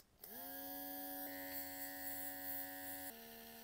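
A cordless rose gold nail airbrush runs at level 2 with a steady, close electric whine and hum. It starts abruptly, holds a constant pitch, then drops slightly in tone near the end.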